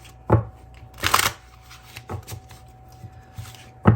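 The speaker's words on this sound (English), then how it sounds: "I'll be pulling from the Heart and Soul Whispers of Love deck by Jennifer Aquarius Tarot for Virgo." Tarot deck of Heart and Soul Whispers of Love cards being handled, with several separate soft riffling and slapping bursts spaced across the moment, close and fairly quiet, with no talking.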